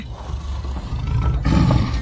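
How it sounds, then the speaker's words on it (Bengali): A deep, rumbling big-cat roar rises over a low growling background, swelling louder toward the end with no voices. "ওরে বাবা বাঘ!"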